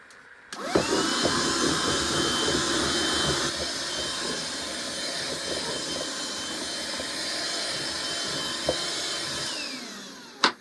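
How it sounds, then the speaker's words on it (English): A small desk vacuum cleaner switches on with a click and whines steadily as it sucks up sanding dust from a workshop desk, its pitch shifting slightly as it is moved, before winding down and clicking off. "This vacuum cleaner is perfect for desks because it's small and I don't have to plug in a massive vacuum cleaner just to clean up some dust."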